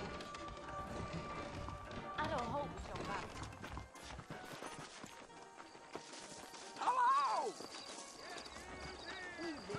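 Saddled horses in a Wild West video game clip-clop with steady hoofbeats and a whinny partway through, over game ambience and voices.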